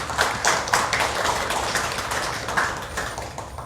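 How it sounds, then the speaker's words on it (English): Audience applause at a book launch for a musician's memoir, a dense wash of many hands clapping steadily throughout at moderate level, with no speech over it. "Let's give a round of applause for that."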